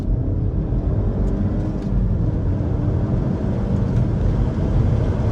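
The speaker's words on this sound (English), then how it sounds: "I'm not gonna brake torque it, just kind of gonna mash the throttle." An Audi Allroad A4 B8.5 in sport mode with the roof slightly open, accelerating hard at full throttle, a steady low engine drone and road roar heard from inside the cabin.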